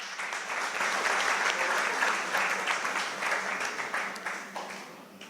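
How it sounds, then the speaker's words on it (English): A crowd applauds steadily, dense clapping holding strong for several seconds before starting to fade. "Give him a round of applause."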